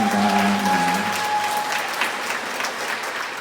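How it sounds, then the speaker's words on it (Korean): A church congregation claps for members of a youth parish choir at Mass, a full, steady round of applause. A faint sustained tone lingers at the start before fading under the clapping. "박수."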